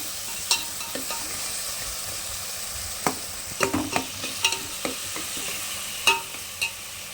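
Garlic fries with onions and tomatoes in a pan, a steady sizzle overlaid with irregular spoon scrapes and clinks as it is stirred.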